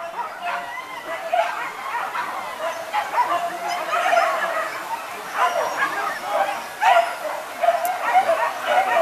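Hunting dogs bark and yip in repeated bursts during a hunt, some whimpering cries mixed in, fairly close and loud, with people talking among the barks.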